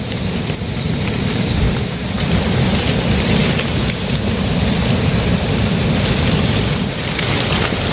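Heavy rain pours steadily in a dense, even hiss and patter, loud and close throughout, with a faint low rumble underneath and no voices.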